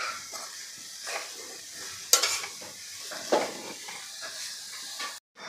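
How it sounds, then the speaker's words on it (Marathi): Jaggery and grated coconut are stirred and sautéed in a pan, giving a soft, steady sizzle with a few scraping knocks of the spoon against the metal, close and unaccompanied. "फक्त गूळ आपल्याला ह्या खोबऱ्यामध्ये परतून घ्यायचा, वितळून घ्यायचा आहे।"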